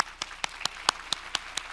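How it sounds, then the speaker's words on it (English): Applause from a convention audience for research trial participants, with distinct individual claps in an even rhythm standing out above a softer wash of clapping. "So can we get a round of applause for"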